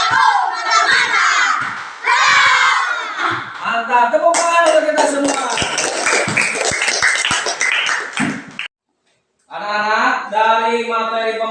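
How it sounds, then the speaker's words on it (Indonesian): A fifth-grade class in a classroom clapping together, the claps mixed with loud shouting and cheering children's voices throughout, with a brief pause before the noise resumes. "Mantap, tepuk tangan untuk kita semua."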